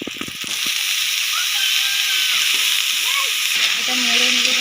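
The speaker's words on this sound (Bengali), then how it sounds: "এটা ভাজা হয়ে গেছে। আমি দিয়ে দেবো এর মধ্যে আলু আর বেগুন।" Potato and eggplant pieces hit a hot pan of fried greens for a village-style leafy chorchori, setting off a steady, close broadband sizzle that swells after the first moment and keeps going with faint stirring.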